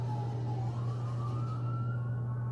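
An ambulance siren passes near the Las Vegas Strip, close to a casino, its wailing tone rising steadily and holding loud and continuous over a wash of street noise, with no talking.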